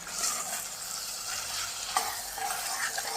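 Eggplant curry with ginger-garlic paste being stirred in a pan, a steady close sizzle with scraping strokes and a sharp clink of the spoon against the pan partway through, no voices.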